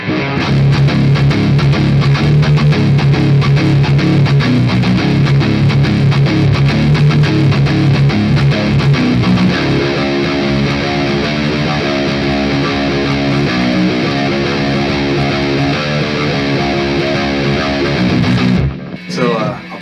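Heavy distorted electric guitar plays a palm-muted breakdown riff, loud and continuous with chugging rhythmic figures, shifting to a choppier pattern midway before stopping abruptly near the end.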